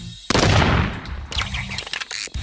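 M1 gun firing in a video game: a loud burst of gunfire bursts in near the start and booms on, followed by a string of quieter rapid shots and clatter, with no talking.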